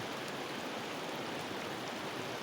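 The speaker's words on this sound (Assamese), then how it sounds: "বৰষুণ গোটেই বৰষুণ গিৰি আছে" Rain falls steadily in hilly country around Itanagar, a soft, continuous broadband hiss at moderate distance with no breaks and no voices.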